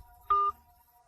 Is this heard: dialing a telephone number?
yes